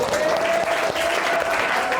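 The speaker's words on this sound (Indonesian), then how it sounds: "Kita tepuk tangan dulu dong." Classroom applause after a student group's discussion presentation, a short burst of dense steady clapping from the class with faint voices beneath it.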